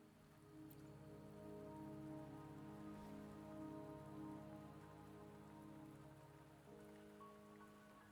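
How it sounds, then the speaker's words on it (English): Steady rain patters on surfaces in the Wuthering Waves video game, a continuous soft hiss under sustained low musical tones, faint and without voices. "Don't worry, the rain won't last much longer."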